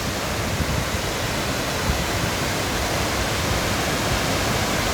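Crystal Creek waterfall in Shasta-Trinity National Forest, Shasta County, California, cascading in a steady, loud, dense roar of rushing water that fills the whole stretch without a break, with no voices.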